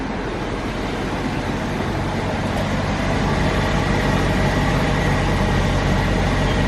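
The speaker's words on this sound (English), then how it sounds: "AC compressor is activated now." BMW E70 X5 4.8i engine idling with the A/C compressor engaged, a constant broadband mechanical drone heard up close that grows slightly louder partway through, with no voices.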